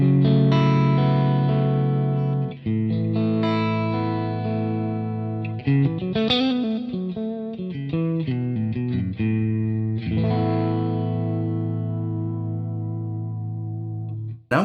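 Electric guitar played through a Boss Katana Artist Gen 3 amp with a Dumble-style clean tone and all controls at noon: sustained chords and melodic single-note runs, warm and clear with chorus-like shimmer, close and continuous.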